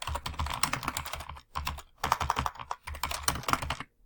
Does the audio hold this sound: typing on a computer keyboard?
yes